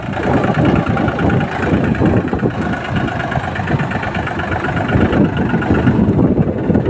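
A tractor with old tyres runs on a farm field during mustard harvesting, its engine rumbling steadily and loudly at close range with an even, throbbing beat throughout and no voices.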